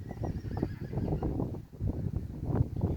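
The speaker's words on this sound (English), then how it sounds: "there was a horse in the background" A horse whinnies in the background during an outdoor tai chi lesson. Its wavering calls stand clear over a steady low rumble, with no talking.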